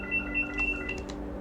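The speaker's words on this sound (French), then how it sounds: "je crois que tout le monde commence à connaître la sonnerie de mon téléphone fixe" A landline telephone ringtone chirps in a short electronic trill of repeated tones, moderately loud indoors over a low background hum, with no talking.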